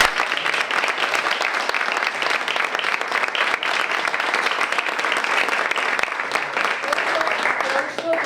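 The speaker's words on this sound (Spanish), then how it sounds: "aplauso enorme para Mariano Mangas, un maestro, un guitarrista de talento" An audience at a cultural storytelling event claps steadily for guitarist Mariano Mangas, a sustained, evenly dense round of applause from many hands, with a voice faintly audible near the end.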